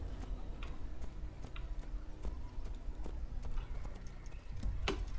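In the video game Assassin's Creed, horse hooves clip-clop in a steady trotting rhythm, close and crisp over a constant low background hum.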